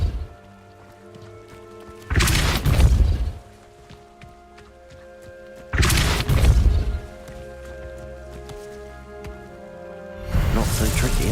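Three bursts of Depulso spellcasting from Hogwarts Legacy on PC, each a loud whooshing blast that rises out of a quieter bed of game ambience and music, spaced a few seconds apart.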